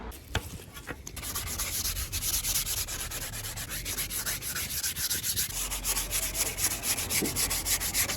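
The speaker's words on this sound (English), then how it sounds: "I'm just going to sand all these edges down before I give it a nice varnish" Wooden edges are hand-sanded before varnishing, a few sharp scrapes at first, then a steady rhythmic back-and-forth rubbing of abrasive on wood, close and clear.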